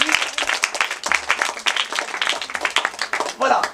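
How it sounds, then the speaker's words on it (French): A group of children claps in quick uneven bursts for a classmate who gave a right answer in a church children's lesson, close and lively, mixed with some voices. "à applaudir pour l'ami"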